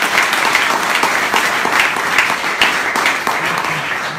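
Sustained audience applause at an outdoor Five Star Movement political rally in Verdellino, steady dense clapping filling the whole stretch at a loud, even level with no voices on top.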